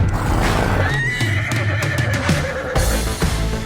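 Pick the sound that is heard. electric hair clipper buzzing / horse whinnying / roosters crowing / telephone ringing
horse whinnying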